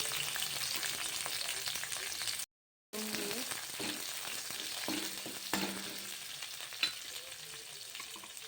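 Capsicum frying with garlic and chilli in a pan for paneer chilli, a continuous close sizzle with stirring clatter and a brief dropout partway through.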